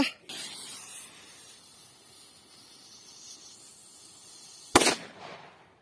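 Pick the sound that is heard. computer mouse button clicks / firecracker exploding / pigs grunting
firecracker exploding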